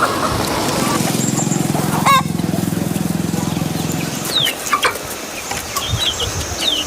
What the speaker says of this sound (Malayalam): കൊക്കി കൊക്കി വരുന്ന പൂവൻ കോഴിയെ കണ്ടു